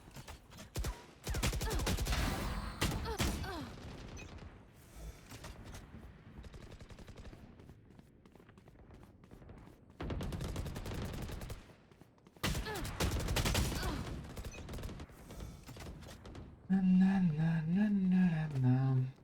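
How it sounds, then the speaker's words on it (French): Gunfire in a video game, fired while the player moves: loud bursts of rapid shots in a few separate volleys with quieter stretches between, and a voice talking over part of it. "Je tire toutes mes balles en bougeant."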